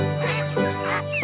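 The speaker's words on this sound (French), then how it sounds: "maman canard et ses canetons" A duck quacks loudly several times in quick succession, nasal and close, with no other sounds around it.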